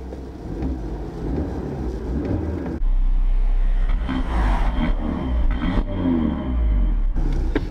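A 2018 Audi RS3 engine idles in neutral with its exhaust valves closed, giving a steady low rumble that swells a little partway through and holds, with no revving, heard close and alone.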